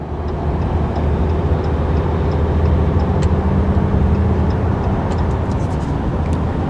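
Steady low engine and road drone from a RAM 3500 HO Cummins diesel pickup with an 8-speed ZF transmission, holding a loud, even rumble throughout with no talk.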